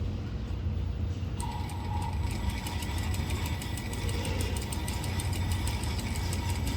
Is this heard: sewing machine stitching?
yes